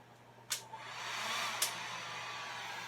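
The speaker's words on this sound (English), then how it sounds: "So now, we're going to take my heat gun. Okay. I'm going to turn it on low." A heat gun running on its low setting over resin to pop bubbles, giving a soft, steady airy blowing hiss with two brief sharp bursts near the start and middle. No one speaks.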